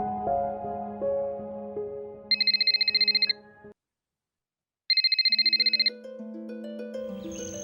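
A telephone rings in two bursts of rapid trilling electronic tones separated by a short silence, set between passages of music.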